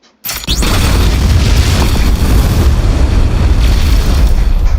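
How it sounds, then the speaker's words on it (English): Flame Wave Cannon move in the Roblox game The Strongest Battlegrounds sets off a sudden, very loud fiery explosion that roars on as a sustained blast after the first burst. "the next move is Flame Wave Cannon"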